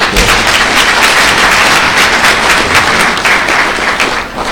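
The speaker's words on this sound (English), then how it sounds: "Can we give him a good round of applause?" A conference audience at a national general insurance event applauds loudly, a thick, sustained wash of many hands clapping that stays even throughout and eases slightly at the close.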